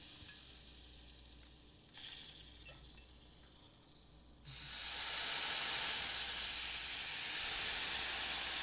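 Brandy poured into a hot stainless steel pan bursts into a loud, broad sizzling hiss that starts suddenly and holds steady, after a quieter stretch of low kitchen background.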